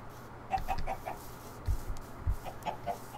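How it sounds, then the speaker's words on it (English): Chickens clucking in short bursts, several birds nearby giving quick repeated clucks with brief gaps between them. "God, there's so many chickens."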